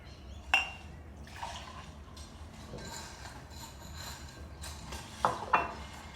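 Freshly brewed pour-over coffee is poured into a cup, a soft, low liquid trickle running steadily for several seconds, framed by a few sharp clinks of ceramic near the start and end.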